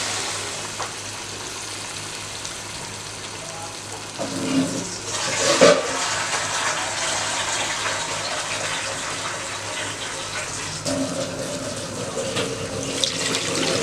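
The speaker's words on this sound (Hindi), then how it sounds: "अब हमने इतना पानी डाल दिया है इसके पकने के लिए।" Water runs and splashes steadily into a cooking pot of beef nihari on low heat, with a brief louder gush partway through, close by and without speech.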